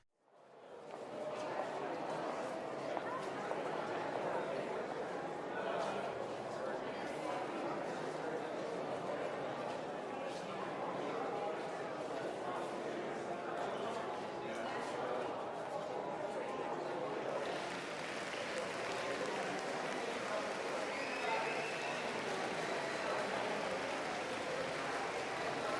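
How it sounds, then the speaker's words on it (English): Sustained crowd noise with broad applause and murmuring chatter, steady and dense throughout, brightening in the final stretch as the clapping swells. "I want to take a listen just with crowd noise and applause"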